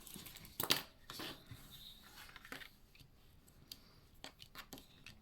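Scissors trim excess material in a series of short, crisp snips and cuts, one louder snip early on followed by quieter, irregular cuts with light rustling, close by and without talk.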